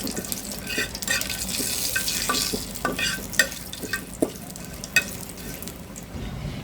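Black cumin seeds fry in a pan as they are stirred, a continuous close sizzle broken by several sharp scraping clicks of the spatula near the end.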